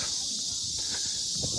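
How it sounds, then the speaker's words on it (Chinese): Cicadas drone loudly from trees beside a large pond in the grounds of Guanque Tower in Yongji, Shanxi, on a hot sunny day. The high buzzing is steady and unbroken, with faint footsteps and rustling beneath. "大家听这个树上的知了叫呢， 叫的声音特别大。"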